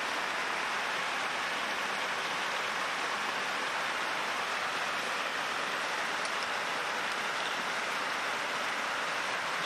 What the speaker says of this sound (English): It's raining far too hard for the vultures to even fly in this